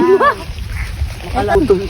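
A dog barks a few times nearby, short sharp yelps amid outdoor background noise and shuffling.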